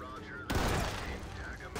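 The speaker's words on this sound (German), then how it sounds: "Ich hab blind geschossen, weil ich dachte, jemand stürmt mich." Blind gunfire in a SWAT shooter game, with a sudden loud burst of shots breaking in, then rattling on under a quiet voice speaking German.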